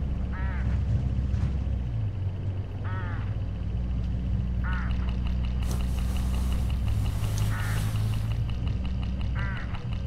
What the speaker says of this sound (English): Look, hooded crows all along this road.